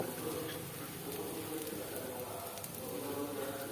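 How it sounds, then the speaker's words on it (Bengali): Onion, ginger paste and spices sizzle in a pan for a tangra fish curry with potato and papaya, giving a faint, even crackle without talk. "তারপরে আমি বাকি মশলাগুলো দিচ্ছি একটু ভেজে নিন"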